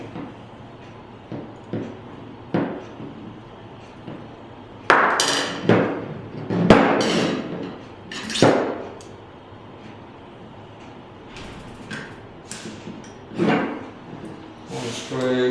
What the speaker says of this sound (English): we do this by removing the two screws at the back edge